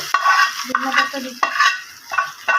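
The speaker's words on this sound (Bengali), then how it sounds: "কাঁচফোড়ন দিয়ে ভালোভাবে নেড়ে চেড়ে বাগার দেওয়া হবে" Mixed vegetables being stirred and scraped in a pan while tempered with nigella seeds, with repeated spatula strokes over a light sizzle, close and clear, no talk.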